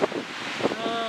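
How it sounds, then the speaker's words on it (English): Gusty wind buffets the microphone in uneven rumbling bursts at Newport railway station, with a faint high whine and some muffled background noise. "Breezy, actually windy, and there's moisture in the air."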